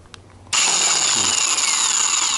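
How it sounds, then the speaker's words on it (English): Impact gun loosening the rear sprocket nut on a Kawasaki ZX14R Ninja motorcycle, kicking in abruptly as a loud, steady high-pitched whirring rattle that holds continuously to the end, with no talking. "I got my impact gun."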